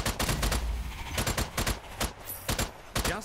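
A heavy-recoil gun in Strange Brigade fires in rapid bursts of about a dozen sharp, punchy shots with short gaps between them, loud and close with no talk over them.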